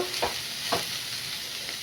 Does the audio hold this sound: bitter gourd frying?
yes